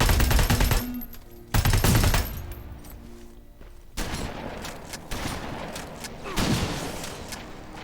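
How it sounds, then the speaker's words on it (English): Shotgun blasts in the video game Terminator Resistance: two loud, booming shots close together near the start, then further heavier bursts with echoing tails and clattering mechanical noise between them. "That's the thing about the shotgun. Don't miss."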